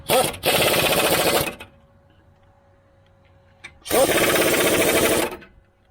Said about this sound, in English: So let's tighten up this caliper bracket.